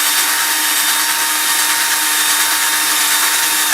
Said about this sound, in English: And don't do this with your really nice drill bits